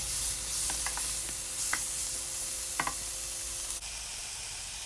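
Peppers and onions caramelizing in a pan, stirred with a utensil: a steady close sizzle with a few light scraping knocks, then the frying settles into a softer hiss.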